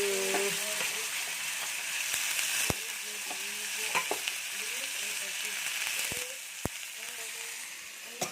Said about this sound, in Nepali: अब यसलाई चाहिँ म यहाँ कराईमा जम्मै हाल्छु